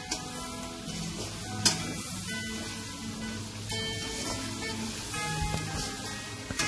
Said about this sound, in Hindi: हाँ टमाटर डाल दीजिए, हल्का सा इसको हिला दीजिए